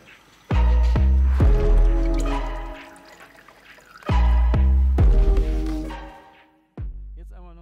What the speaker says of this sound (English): I'll turn this over to position 4 and the oil will come out